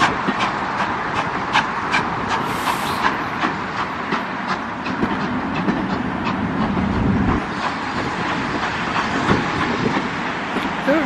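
Train passing Washford station on the West Somerset Railway, a steady loud rolling rumble with rhythmic clickety-clack of wheels over rail joints, no talk.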